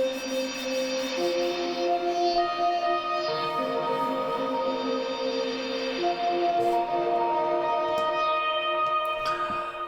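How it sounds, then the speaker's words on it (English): Synth pad from a preset in Maschine plays a lush, sustained chord progression with echo-like effects, layered notes shifting slowly and evenly loud, with no voice. "then we have a Synth Pad."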